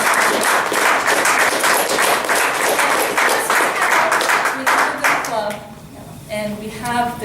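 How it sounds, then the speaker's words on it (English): A room of club members at a meeting gives a round of hearty clapping for John Morse, dense and close, tapering into a few scattered claps near the end. "John Morse, round of applause."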